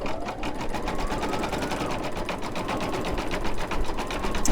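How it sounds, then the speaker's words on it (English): An embroidery machine stitches a zigzag outline around a flip-flop design on a dollar-store potholder, its needle clattering in a fast, steady rhythm close by with no pauses. "this is going to do a zigzag stitch, and then it's going to do a satin stitch all the way around the flip-flop"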